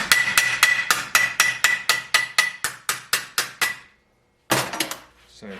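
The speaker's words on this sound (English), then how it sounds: "I can obviously do a little bit of hammer work as well." Repeated metal hammer taps on a patch repair panel in the rear passenger box section of a Mercedes W109 body, about a dozen evenly spaced ringing strikes, close and loud, then a short pause and a final burst.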